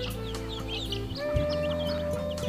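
A hen clucks in short, scattered bursts over a steady bed of sustained tonal sound, moderately loud and close, with no talking.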